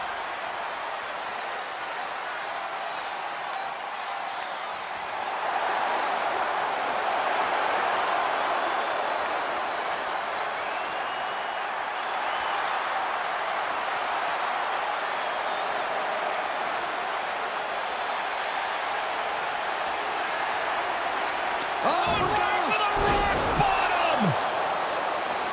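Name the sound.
WrestleMania crowd cheering in WWE 2K25 video game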